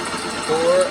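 A riding lawn mower engine fitted with an oil pressure gauge runs steadily nearby, with a low continuous hum and a faint whine rising in the second half.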